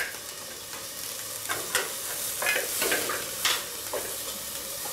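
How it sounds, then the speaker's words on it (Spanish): Butter for sautéed spinach sizzling in a pan, a soft steady hiss broken by several scraping stirs and small clinks over about five seconds. "voy a saltear espinacas para nuestra guarnición, ya, con un poquito de mantequilla y sal nada más"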